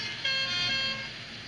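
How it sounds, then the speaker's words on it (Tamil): Bus horn honking in the Bus Simulator Indonesia video game, a single sustained bright tonal blast of about a second, loud and close over low engine rumble. "நம்ம என்ன ஹார்ன் அடிச்சுட்டு போவோம் அதுக்கு."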